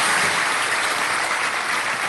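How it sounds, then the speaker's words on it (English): An audience breaks into a dense, steady round of applause at a live community talk show, the clapping filling the room evenly for its whole short length. "I think it's a round of applause"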